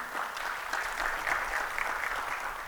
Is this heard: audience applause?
yes